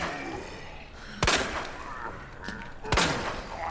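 Two loud, sharp gunshots ring out in the Resident Evil sewers of Raccoon City, spaced about two seconds apart, each with a brief echoing tail over a constant game ambience.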